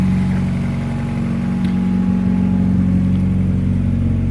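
A Honda Prelude engine idles high after a cold start in cold weather, a steady, elevated speed with a constant low hum and slight whir, close and unchanging for the whole stretch.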